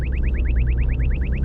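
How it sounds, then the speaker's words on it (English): Inside a car, a radar detector alert chirps in a fast, regular series of rapid repeating tones, loud and close, with engine rumble underneath. "the video was not supposed to be about the radar detector, but clearly it's working"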